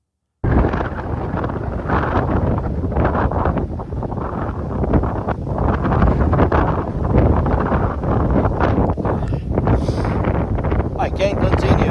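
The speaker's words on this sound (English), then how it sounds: "Wind gusts over 50 miles per hour." Strong wind gusting over 50 miles per hour in Montana roars and buffets the microphone continuously, loud low rumbling gusts with no pauses throughout.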